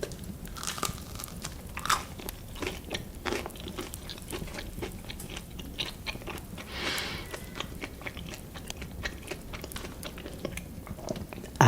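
Crusty dark-flour bread is bitten and chewed close up, giving faint, irregular crackles and crunches with softer mouth sounds between them, with no talking.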